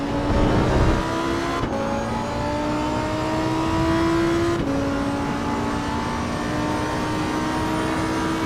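Lamborghini Huracan STO racing in Assetto Corsa Evo, its engine note loud and close, climbing steadily through the gears with two sharp upshifts and holding a high, sustained howl, no talking.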